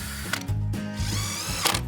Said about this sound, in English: So drill in there and just get a screw in.